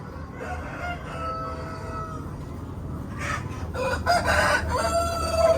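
Several Đông Tảo roosters crow on a Vietnamese farm, their calls rising over a low steady background hum, with overlapping crows growing louder toward the end.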